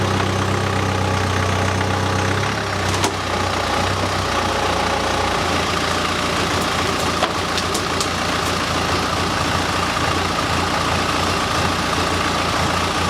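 A crash-damaged BMW starting up and idling with a loose flexi exhaust section, a loud steady engine drone with a rattling, buzzing vibration against the chassis, continuous and close.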